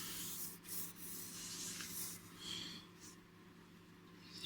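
Steady wet rubbing of 2000 grit sandpaper across a clear-coated surface, soft back-and-forth strokes close by with no talk.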